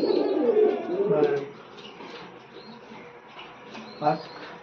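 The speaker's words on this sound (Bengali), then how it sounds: "অনেক চঞ্চল কবুতর, হাতে রাখার একটু মুশকিল হয়" Racing pigeons coo softly and repeatedly, with a low throaty burble near the start and a short burst later, over faint background murmur.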